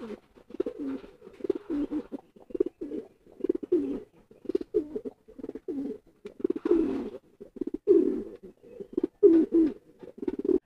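Domestic pigeons kept for courtship display coo continuously at close range, their low throaty rolling calls repeating in quick overlapping bursts with no voices over them.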